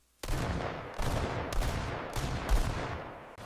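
Rapid bursts of gunfire, dozens of rounds loosed in the woods during an execution in the Appalachian Mountains, come as four or five loud, sharp volleys in quick succession, each rolling into echoing reverberation.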